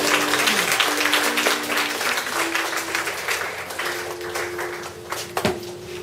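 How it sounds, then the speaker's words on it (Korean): A church congregation claps together after a prayer, a broad, steady wash of hands lasting several seconds, with a sustained musical tone held beneath it. "다음에 주님께 영광의 박수를 보내주십시오."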